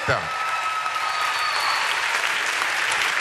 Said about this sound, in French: Merci d'applaudir bien fort la présidente du jury